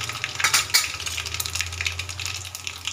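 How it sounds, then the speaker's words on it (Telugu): Mustard seeds, cumin and dried red chilies sizzling in hot oil for a tempering, with crackling pops and light clinks of a utensil against the pan over a steady fry. "మనం ఇప్పుడు తాలింపు వేసుకున్నాం. కొన్ని ఆవాలు, కొంచెం జీలకర్ర, కొన్ని ఎండుమిరపకాయలు,"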